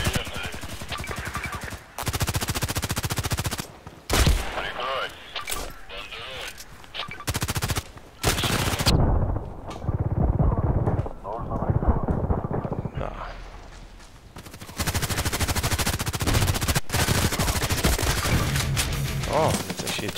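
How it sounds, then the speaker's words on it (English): Automatic Glock 18 pistol fire in the Contract Wars shooter game, loud rapid bursts emptying the magazine, broken by short pauses and quieter gaps with game background noise. "So when I'm doing these shots, I'm very, very fast out of ammunition because it's automatic."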